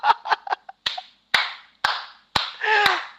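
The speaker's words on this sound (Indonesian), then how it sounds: "Saya harus tepuk tangan untuk memberikan semangat kepada Anda." Sharp hand claps from a single person, starting as a quick irregular cluster and then slowing to loud, evenly spaced individual claps, close and dry with no talk over them.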